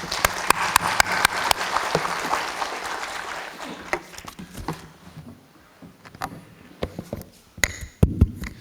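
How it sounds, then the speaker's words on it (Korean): Residents at a reconstruction briefing clap to welcome a tax presenter, a moderate wash of applause that tapers into sparse, sharp individual claps with quiet gaps, fairly close. "이유진 위원님을 큰 박수로 맞이하여 주시기 바랍니다"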